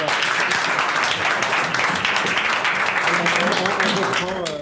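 Dense applause from a forum theatre audience, steady and enthusiastic throughout, with voices mixed into the clapping.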